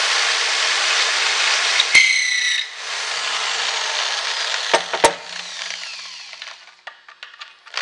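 A hand drill bores into a wooden rake handle, giving a steady broadband grinding and scraping that pauses and resumes, followed by a few sharp knocks and clicks near the end, close and alone.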